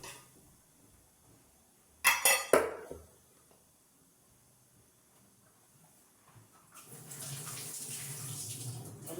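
Green chillies are rinsed under a kitchen tap. A sharp burst of clattering splashes is followed by quiet, then a steady rush of running water fills the end.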